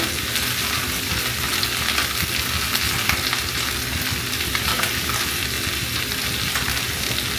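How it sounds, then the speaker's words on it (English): Onions and green onions sauté with squash in a pan, a steady close sizzle with faint stirring scrapes underneath, continuous and even with no voices. "I'm just going to add all of the onions, the rest of the onions, and the green onions in here."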